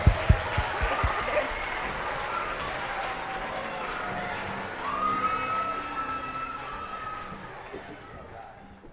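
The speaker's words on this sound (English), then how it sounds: "Give them a round of applause." A high school auditorium crowd claps and cheers for an orchestra in a sustained burst of applause, with a few whoops rising over the steady clatter of hands.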